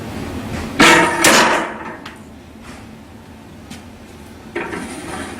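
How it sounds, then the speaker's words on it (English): Cold Steel tanto knife tip striking a block of steel on a steel table: two sharp metallic impacts close together, followed by a few faint clicks and a later softer knock in a quiet room. "you hit a steel table"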